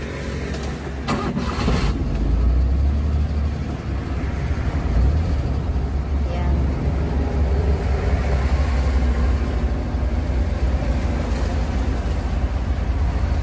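A Suzuki Multicab Scrum cateye 4x4 with manual transmission, its engine cranking and catching at the start, then settling into a steady, loud, close idle that runs alone throughout.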